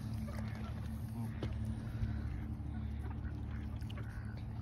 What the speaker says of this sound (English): These geese are mean fuckers.